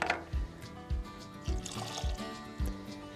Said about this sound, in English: But first I'm gonna add some butter and some milk.